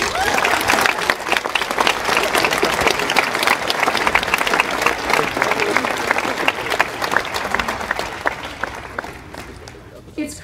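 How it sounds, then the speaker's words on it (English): Graduates at a senior school closing ceremony receive sustained applause from a large crowd, dense clapping filling the space and holding steady before tapering off near the end. "So please, round of applause for the grads."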